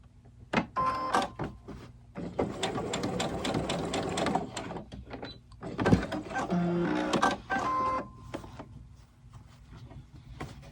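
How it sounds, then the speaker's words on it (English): A sewing machine stitching fabric for an upcycled 18-inch doll blanket: several runs of rapid mechanical whirring and needle clatter, close and steady, separated by short pauses. "Now I'm actually going to stitch that back down again because I pulled the stitches out."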